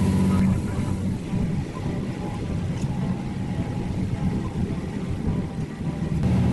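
A Tsugaru Line train runs through farmland in the rain, a low steady rumble of wheels and motor heard from inside the carriage, with a voice talking over it.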